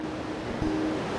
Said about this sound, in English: You can hear the ocean here in the background in this beautiful beach in Playa Velada